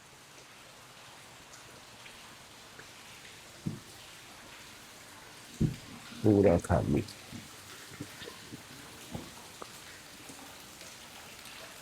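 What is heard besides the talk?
rain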